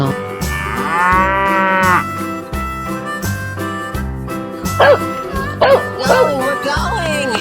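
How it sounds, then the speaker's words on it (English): Cartoonish cow moo from a 3D animal sliding video game, sounding over bouncy game music with other animal calls and sound effects around it. "Cow."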